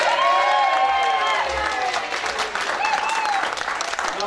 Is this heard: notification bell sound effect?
no